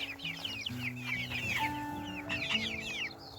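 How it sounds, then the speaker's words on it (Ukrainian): In a rural yard, a rooster gives a drawn-out, tonal crow amid busy clucking and chattering from other hens, all at moderate distance with no talking. "Півник кукурікає."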